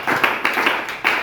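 A church congregation claps in rhythm, a steady run of sharp claps close and fairly loud, with no cheering or voices standing out.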